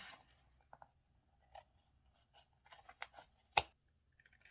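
Scissors trimming fabric for a handmade storage pouch, giving a few brief, quiet snips and scrapes spread out over a faint background, with one sharper cut near the end.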